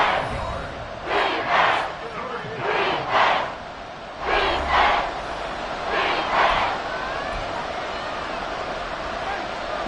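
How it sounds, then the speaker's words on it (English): A football stadium crowd at a wild card playoff game on a tense third and long, roaring in loud repeated surges about every second that rise and fall against a steady background din, with no clear talk. "This crowd turning up the decibel level."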